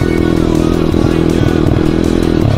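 A Jawa KTM motorcycle engine revs hard and close in snow, a loud, continuous buzzing drone with rough harmonic pulses and faint clattering underneath throughout.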